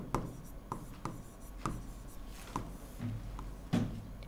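Chalk or a marker taps and scratches across a classroom board during a chemistry lesson, giving a series of short, light strokes at an irregular pace, close and fairly quiet.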